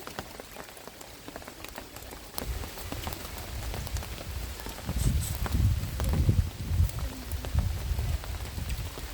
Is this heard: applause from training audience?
no